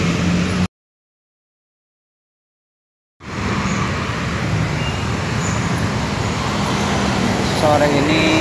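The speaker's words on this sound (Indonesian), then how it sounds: "Bus wisata." Road traffic with tour buses rumbles steadily past in a city, a continuous low roar of engines and tyres broken by a short dropout near the start.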